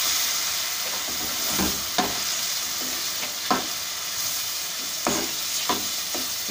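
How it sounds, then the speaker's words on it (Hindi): Potato with ground black pepper, green chilli, coriander powder, turmeric and garam masala frying in a pan, a steady sizzle broken by several sharp scraping stirs of the spoon, close and alone with no talking. "इसको भूनना है अच्छे से।"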